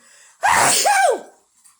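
A single loud sneeze bursts out close by, a sharp breathy explosion that trails off in a falling voiced tail, with quiet before and after.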